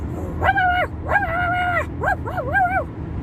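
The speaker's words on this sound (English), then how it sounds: "this little teeny dog is like neck and neck with my car, with the van" A small dog running alongside a moving delivery van gives a series of high, yelping barks, loud and close, in quick rhythmic bursts over the low hum of the road.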